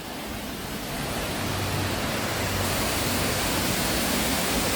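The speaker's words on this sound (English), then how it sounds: "There's a waterfall area." A waterfall at the Bird Paradise wildlife park roars as a steady, dense rush of falling water, loud and continuous throughout with no breaks.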